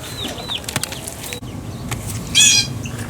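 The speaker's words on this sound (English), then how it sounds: "I got a blue jay sitting above me, making funny noises at me" A blue jay's sharp, harsh call bursts out once near the end, loud and close, over quiet outdoor background with a few faint chirps earlier.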